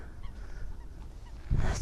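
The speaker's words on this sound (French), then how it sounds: "Voilà le canard, c'est ça qui vous répond." Honking, quacking waterfowl calls used as a comic sound effect, appearing as a few faint nasal squawks under a low rumbling background that rises abruptly near the end.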